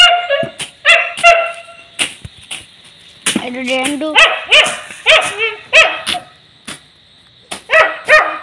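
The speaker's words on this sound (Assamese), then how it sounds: "কুকুৰটো বহুত ভুকি আছে" Repeated barks from a dog in a village yard, loud and close, coming in quick bursts with some whimpering yips among them, while people talk intermittently in the background.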